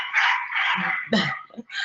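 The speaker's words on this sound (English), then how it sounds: "we got beautiful dogs barking in the background" Dogs barking in the background during a live conversation, yips and barks mixed in among continuous nearby talking voices.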